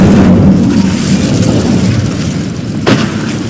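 Incendio fire spell cast in Hogwarts Legacy, a loud whooshing roar with booming low rumble that fades slightly, followed by a short sharp burst near the end.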